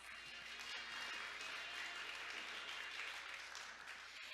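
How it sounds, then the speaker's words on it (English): A conference audience at a Korean maritime week event applauds a speaker, a faint, steady wash of many hands clapping heard from a distance, continuing evenly throughout. "Let's give him another big round of applause."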